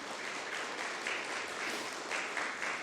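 Church congregation applauding to welcome a member standing during Sunday worship, a steady, dense burst of many hands clapping throughout, fairly loud and without talk.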